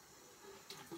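A faucet runs briefly in a thin, steady hiss of water, close by and fairly quiet, with a few faint splashes.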